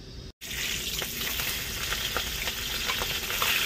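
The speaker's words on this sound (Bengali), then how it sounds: "এবার ডাল আলুটাকে ফ্রাই করার জন্য এই যে আমাদের কড়াইয়ে তেল দিয়ে দিয়েছে আমার দাদা" Onion and tomato fry in hot oil in a kadai with a steady, loud sizzle and crackle, broken by a brief silent dropout near the start and then continuing evenly.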